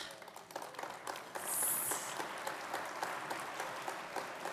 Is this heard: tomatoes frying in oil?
no